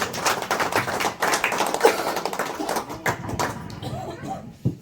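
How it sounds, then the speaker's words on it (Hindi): Scattered hand claps welcome a speaker at a political public-outreach rally, sounding as uneven, fairly close taps with voices talking over them throughout. "जोरदार तालियों से स्वागत हो"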